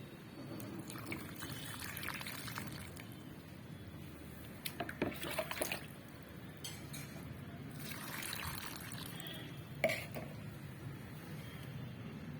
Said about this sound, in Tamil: திரும்ப நான் இதில் வந்து கொஞ்சம் தண்ணி ஊற்றுறேங்க.